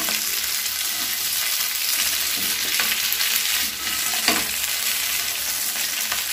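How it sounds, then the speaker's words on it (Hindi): Steady, loud sizzling of chicken frying in a hot pan with garlic and curry leaves for chicken 65, with occasional stirring scrapes and clinks throughout. "ये देखिए लहसुन और कड़ी पत्ता डालकर मैंने अच्छे से फ्राई कर लिया है।"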